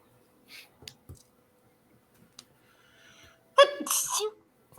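A single loud, close sneeze bursts out near the end during a tabletop role-playing game session, following a few quiet clicks and faint murmurs.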